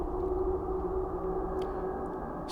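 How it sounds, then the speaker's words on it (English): A steady, droning hum from the Divine Beast Vah Rudania in Zelda: Breath of the Wild rumbles continuously at moderate loudness, joined near the end by a couple of faint, brief clicks. "That's the sound of Rudania."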